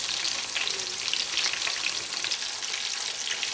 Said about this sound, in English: there we are, frying in olive oil, a little garlic here and there